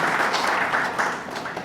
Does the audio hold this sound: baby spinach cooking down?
no